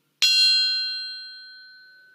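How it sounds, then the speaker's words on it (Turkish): A steel triangle is struck once, giving a sharp bright attack followed by a clear metallic ring that slowly decays over about two seconds. "Bir de bu çelik üçgende deneyelim ses çıkartmayı."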